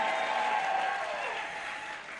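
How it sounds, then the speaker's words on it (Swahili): Dense applause from an audience at a live gospel band event washes over the whole moment, steady and fairly loud, with a faint tone running beneath it. "piga makofi mazuri."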